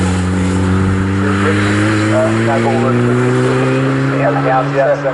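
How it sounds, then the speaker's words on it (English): Racing cars on the Snetterton circuit during a GT and GT4 race drone steadily with loud, sustained engine notes that slowly rise in pitch as they pass, while a commentator talks over them. "Peter Chalice has just got past the BMW there"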